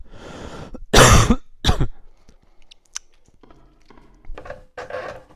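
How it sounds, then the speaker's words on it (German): A character in the horror game Spooky's House coughs several times in short, harsh bursts, followed by throat clearing and quieter rustling, close and alone with no talk. "Der Husten."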